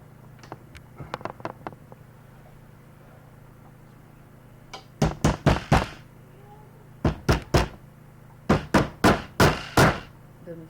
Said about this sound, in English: I think when I hit it with the hammer,